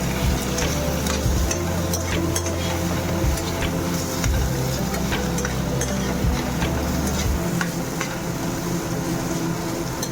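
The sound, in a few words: vegetables sautéing in butter in a pan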